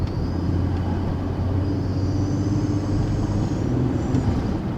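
A car engine fitted with an SXTH Element cold air intake runs at a raised, steady rev, giving a continuous close, low drone with a faint whine above it and no talk.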